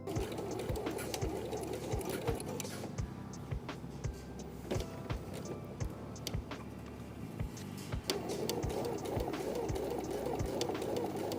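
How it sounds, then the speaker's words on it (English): A sewing machine stitches the collar pieces of a jumpsuit, running steadily for several seconds with a soft mechanical whir and rapid clicking. "Pin both pieces together, then sew across the top and down both sides."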